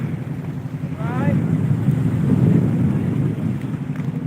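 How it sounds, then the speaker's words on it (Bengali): A motor boat's engine drones steadily on Tanguar Haor wetland, with wind and water rush around it, a continuous moderately loud hum with faint voices underneath. "এই যে আমাদের বোটটা"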